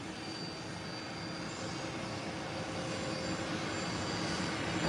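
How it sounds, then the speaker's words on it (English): A Global Express business jet taxiing after landing produces a steady broadband engine roar with a faint high whine, continuous and fairly distant, alone without talk. "a Global Express. Just landed."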